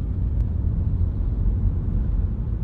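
A BMW E36 Alpina with a 3000 cc engine revving hard, a loud, close, continuous low roar that stays dense and steady throughout, with no voices over it.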